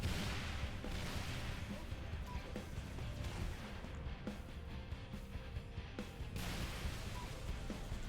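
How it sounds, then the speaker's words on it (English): Plasma launcher lobbing plasma grenades in Halo Reach, with repeated soft launches and bursting blasts scattered over a dense, steady wash of game battle noise and rumble, a few sharper impacts standing out. "plasma launcher, brand new to Halo Reach, literally launching plasma grenades"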